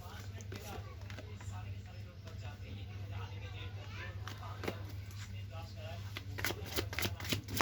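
Tarot cards being shuffled by hand in a steady, continuous riffling patter, close and fairly quiet over a low constant hum, with a few sharper card snaps toward the end.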